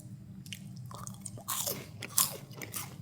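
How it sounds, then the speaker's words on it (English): Close bites into crunchy air-fried food, several sharp crisp crunches and chewing sounds in quick succession, loud and near, with no talking. "See how crunchy this is?"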